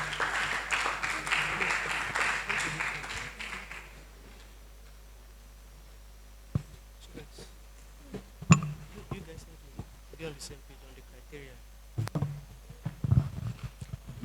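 Applause from a conference audience fills the first four seconds, moderately loud, then fades into a quiet room with scattered knocks and thumps.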